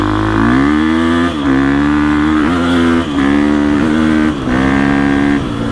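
A 2021 GasGas EX 350F dirt bike on a dirt road revs hard through its gears, a loud, close engine note climbing and dipping at each quick shift, with no talk over it.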